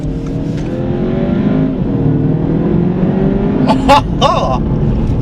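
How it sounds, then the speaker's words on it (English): A 2020 Audi TT Coupe quattro with a seven-speed S-tronic gearbox accelerates hard, its engine note climbing and rising through gears from inside the car, loud and steady, with a brief voice near the end. "Honestly, you pick up speed so quickly in this car."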